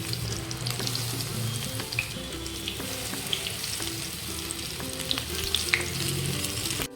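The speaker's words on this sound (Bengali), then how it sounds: "নিয়ে সুন্দর করে বড়ার আকারে গড়ে তেলে ছেড়ে দেবো।" Bora fritters frying in oil make a steady, close bubbling sizzle with light stirring clicks throughout, and no talk over it.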